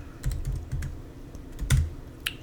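Keys on a computer keyboard are pressed in a short uneven run of distinct clacks, close and fairly loud, with a heavier thump near the end.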